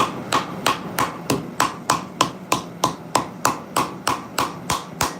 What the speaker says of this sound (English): I lay it flat in the anvil and I hit just the spine.